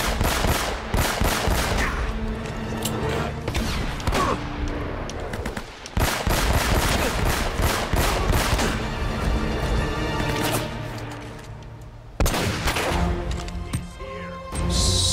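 Enemy gunfire in Uncharted: Drake's Fortune, a dense, loud barrage of rapid gunshots and bursts running almost continuously, with brief breaks near six and twelve seconds and no talk over it.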